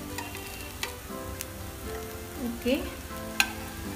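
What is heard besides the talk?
potato tikki frying in a pan for veg frankie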